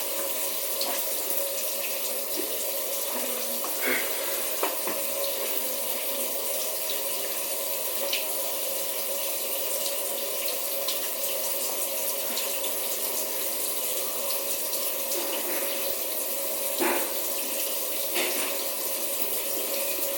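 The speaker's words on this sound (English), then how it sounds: "You're gonna have to run your hand under the water." A kitchen tap runs steadily and close for the whole stretch, water splashing into a sink with a few faint knocks and clatters, no talking.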